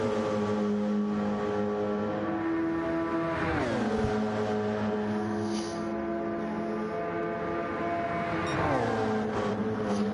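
A race car in a racing video game screams through Eau Rouge at Spa, its high engine note holding steady, then dipping and climbing again with gear changes, loud and continuous.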